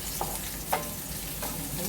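Onion added to lightly browned garlic frying in a pan, a steady moderate sizzle broken by a few short stirring scrapes spaced apart, with no talk.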